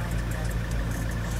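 A fully tuned, modified Mahindra Scorpio 4WD idles with a steady, low rumbling drone that holds an even, unbroken level throughout the short stretch.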